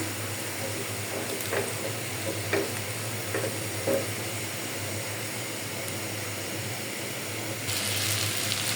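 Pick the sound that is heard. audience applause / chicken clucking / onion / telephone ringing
onion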